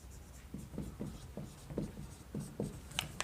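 Handwriting a note with pen on paper, a run of short scratchy strokes in quick irregular rhythm, close and quiet against a faint room hiss.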